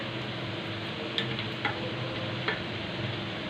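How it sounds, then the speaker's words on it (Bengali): Mini singaras deep frying in hot oil give a steady, dense sizzle with a few faint ticks and small pops over it, close and even throughout, with no voices. "এই যে সিঙ্গারা ভাজার কাজ শুরু হয়ে গেছে, ভাজা চলতেছে।"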